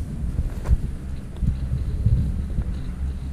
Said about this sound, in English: With the wind whipping again.